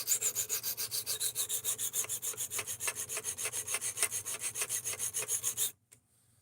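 Rex 121 steel knife blade drawn across a diamond sharpening plate, a close, even rhythm of rasping strokes, roughly two per second, ending abruptly.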